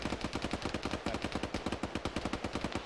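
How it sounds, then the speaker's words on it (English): Sustained automatic fire from a machine gun in Arma rattles in a rapid, even burst of sharp reports that runs unbroken throughout, fairly distant and alone without talk. "We got a machine gun to our south."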